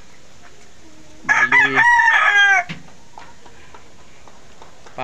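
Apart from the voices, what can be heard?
chickens and rooster crowing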